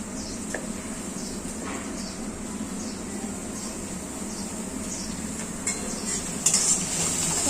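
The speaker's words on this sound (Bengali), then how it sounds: "চলো, পেঁয়াজটা আগে ভাজা হোক।" Onion frying in a pan for an old family-style jackfruit curry, a constant moderate sizzle with occasional soft utensil scrapes and a brighter clatter toward the end.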